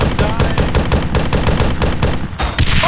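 Sustained automatic gunfire in the Arma 3 Steel Wheels mod, loud close rapid bursts with a steady pulsing rhythm throughout, a brief pause near the end before firing resumes.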